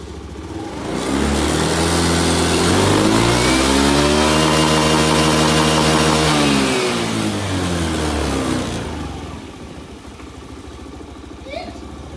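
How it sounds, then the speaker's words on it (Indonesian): Motorcycle engine revved up hard after starting, a loud, close whine rising in pitch, holding high for several seconds, then falling back toward idle, with faint talk in the background. "lalu kita nyalakan motornya dan kita gas"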